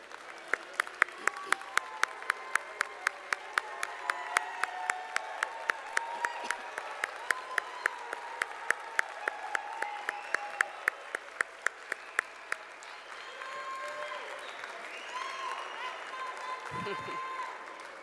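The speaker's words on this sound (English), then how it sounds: "Let's all give them a round of applause." Steady audience applause at a graduation ceremony, with sharp individual claps throughout, fading into a softer crowd murmur toward the end.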